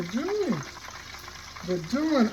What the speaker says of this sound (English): They're frying, y'all. They're frying.